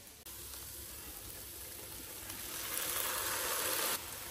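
A buckwheat mixture frying in a pan gives a steady, soft sizzle that swells louder near the end before easing off, with no talk over it.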